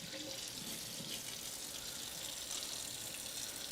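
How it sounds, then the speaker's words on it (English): A bowl is rinsed under a running kitchen tap during meal prep, with a steady broad rush of water that runs unbroken and fairly close for a few seconds. "We're just gonna rinse this off, I guess"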